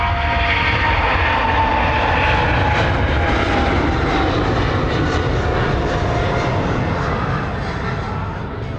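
An Emirates Boeing 777 jet takes off at Sydney Airport, its engines roaring loudly and steadily with a broad rushing whine that fades slightly at the end.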